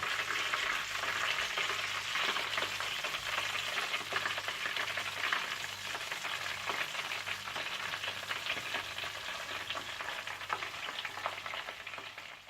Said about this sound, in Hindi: और इसी तरह से आप बाकी चिकन को भी फ्राई कर लीजिएगा